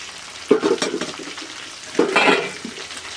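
Tomato going into a hot pan for a village-style chicken salt curry, with two bursts of sizzling and stirring, about a second and a half apart, over a low background hiss.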